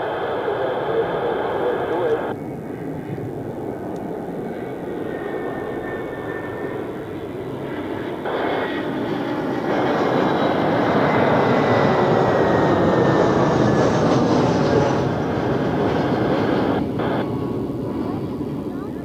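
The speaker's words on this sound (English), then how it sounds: "So now the A320 from Hurghada in Egypt." Airbus A320 arriving from Hurghada, Egypt, landing at Zurich Airport: a sustained jet engine roar that swells louder midway, with people talking over it.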